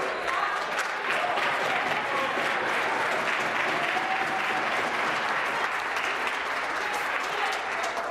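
Government members in parliament break into loud, sustained applause during Question Period, a thick continuous roar of clapping with crowd noise mixed in.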